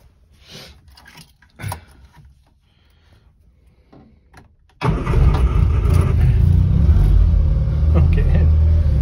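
A 1980 Mini 95L van cranks and fires up on choke, with quiet rustling and a clunk first, then the engine catching abruptly and settling into a loud, steady idle.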